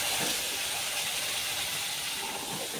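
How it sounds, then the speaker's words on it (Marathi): Ground masala for an egg curry sizzles in hot oil, making a steady, quiet hiss. The frying sound carries on alone with no talk. "आता मी ह्याच्यात टाकणार आहे हे सगळा मसाला"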